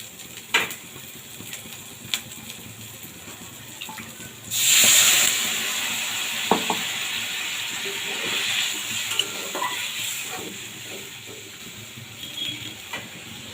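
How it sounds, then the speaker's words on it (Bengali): Water poured into a pan of frying spice paste sets off a sudden loud hiss and burst of sizzling, which settles into a quieter bubbling with small clinks before and after. "দেখুন বন্ধুরা, মশলাটা দিয়ে তেল ছেড়ে এসছে। এবার আমি এখানে জল দেব।"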